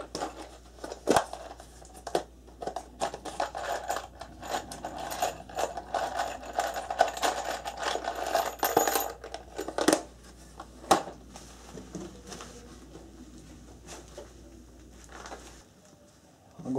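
A power drill drives 3-inch screws into wooden joist blocking during a bathroom remodel, with close whirring bursts and sharp clicks for several seconds before it tapers off to a few isolated knocks.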